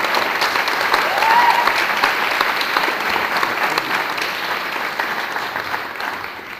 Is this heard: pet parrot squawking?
no